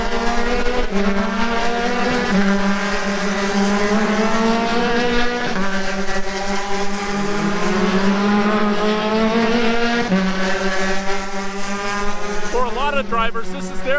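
Road to Indy open-wheel race cars lap Miami Speedway in spring training, loud high-revving engines whining in rising and falling sweeps as several cars pass one after another, with a Doppler drop at the end.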